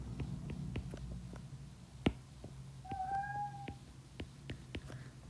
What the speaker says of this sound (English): Sorry, those are my cats.